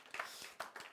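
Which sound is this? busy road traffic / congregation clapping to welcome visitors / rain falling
congregation clapping to welcome visitors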